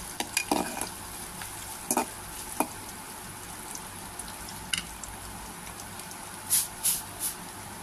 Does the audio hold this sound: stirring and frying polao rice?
yes